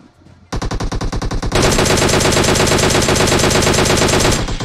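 Rapid automatic gunfire from a gun in PUBG Mobile bursts in loud and close after a brief quiet moment, then becomes an even denser, relentless stream of shots that holds to the end.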